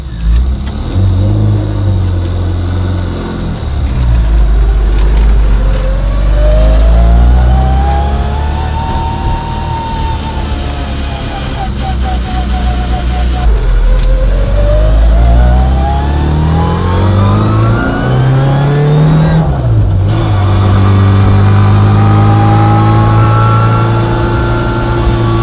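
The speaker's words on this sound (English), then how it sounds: "classic rally minis run straight cut drop gears" A classic Mini Cooper S in rally spec with straight-cut drop gears revs hard, its loud engine note carrying a prominent rising and falling gear whine across repeated accelerations and shifts, close to the microphone with no talking.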